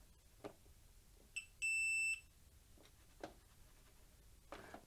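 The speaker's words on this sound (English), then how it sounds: "Now if I just touch my leads together, you can hear them beep" Continuity beep from a multimeter as its test leads are touched together while testing parts of an electric fire, a single steady high tone lasting about half a second, preceded by a brief shorter beep, with faint clicks and handling noise around it.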